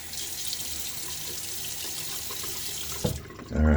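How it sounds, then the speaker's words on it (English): A bathroom tap runs into a sink in a steady, close hiss of water, followed by a short burst of splashing as water is scooped and thrown onto a face, with no talking. "Oh, and I forgot to splash a little water on my face."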